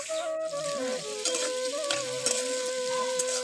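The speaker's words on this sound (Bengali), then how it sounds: "এখন কুমড়ো ভাজা হবে" Pumpkin slices frying in a pan at home, a steady sizzle with faint clinks of utensils and a thin tonal whine running throughout.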